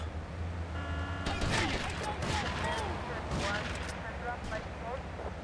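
Sniper gunfire rings out in GTA Vice City, several sharp cracks and booming shots with echoing tails over game background noise.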